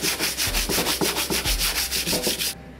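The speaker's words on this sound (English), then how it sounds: "you do use some sandpaper, 120 or more, to get that final shine on it" Sandpaper rubs back and forth over wooden furniture being stripped of paint, making rhythmic rasping strokes about five per second, close and steady before stopping abruptly, with no talk.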